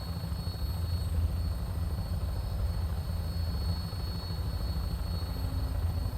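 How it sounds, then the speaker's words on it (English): Steady engine drone of a Vertibird aircraft in Fallout 4, a continuous low rumbling roar with a faint high whine, even and unbroken throughout. "I just don't like having the airplane noise in the back."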